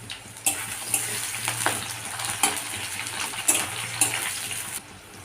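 Large-cut onion, minced garlic and green chillies frying in hot oil, a steady close sizzle with occasional sharp stirring clinks over a low hum.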